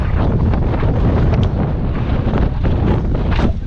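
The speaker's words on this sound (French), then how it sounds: "Ah, du vent ça." Continuous loud buffeting wind roaring against a microphone while riding a bike, steady throughout with no break.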